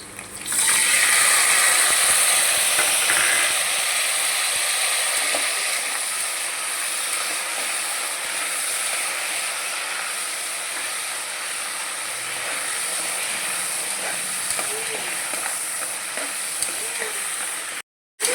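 Green peas frying in oil in a pan for vegetable pulao, a steady close sizzle and hiss that runs for most of the stretch and cuts out briefly near the end.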